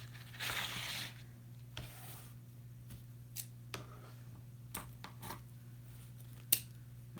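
Scissors snipping polka dot and chevron pieces for a wreath, a few faint, sparse cuts and rustles over a steady low hum in a quiet room.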